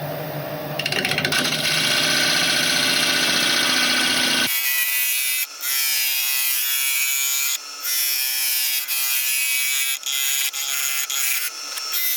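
Wood lathe turning a segmented ebony, oak and sapele plate, a loud continuous whirring and scraping of the tool on the spinning wood that cuts off abruptly, leaving quieter intermittent bursts.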